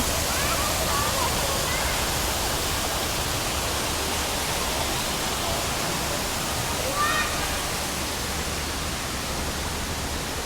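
Indoor waterfalls in a shopping mall roar as a steady, loud rush of falling water, filling the whole stretch with constant noise.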